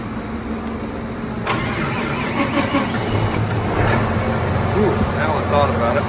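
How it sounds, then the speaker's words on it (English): A tractor engine cranks and catches about midway through, then settles into a steady, close mid-pitched running rumble, with people talking over it. "Let's start the second tractor now."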